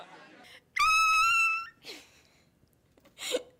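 A person imitates a raptor's cry with a loud, high, wavering screech lasting under a second, followed by faint breaths and murmurs in a quiet room.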